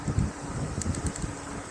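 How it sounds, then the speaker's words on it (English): Steady outdoor wind buffeting the microphone in woodland on the Isle of Wight, a low constant rumble with gusty swells throughout, no voices. "Bit windy, John, isn't it?"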